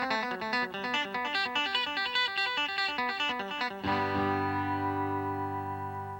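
Guitar plays crisp staccato eighth notes through a Boss digital delay pedal, each short pluck trailed by repeating echoes, then a sustained chord rings out and decays with smeared delay tails.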